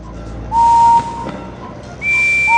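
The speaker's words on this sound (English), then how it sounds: "One of these whistles sounds like Henry's." Two steam engine whistles from the Thomas & Friends video game, each a clear, steady tone: a high whistle toward the start, then a shorter, higher-pitched one near the end.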